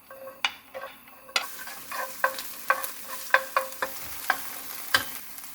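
Green onions frying in a generous pour of cooking oil over a gas flame to make scallion oil, a steady sizzle broken by a string of sharp, close clicks and taps as they are stirred.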